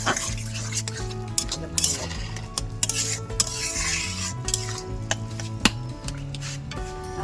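A metal spoon stirs and scrapes bottle gourd curry thickened with rice flour in a pan, in steady repeated strokes with occasional sharper clinks and a light sizzle, close and fairly loud.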